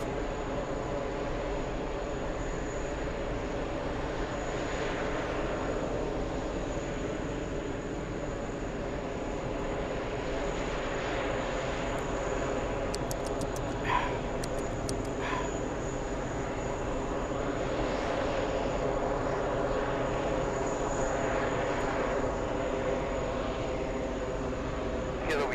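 A jet airliner moves along the ground at an airport, a steady distant engine drone holding at moderate level throughout, with faint radio chatter and brief clicks on top.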